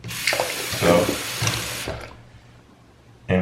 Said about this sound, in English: empty the water out.